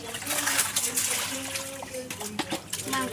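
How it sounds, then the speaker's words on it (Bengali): Meat is washed in running water, with a steady splashing and trickling stream and intermittent sloshing while a voice talks over it. "মাংসটা ভালো করে ধুয়ে নিয়ে আগে"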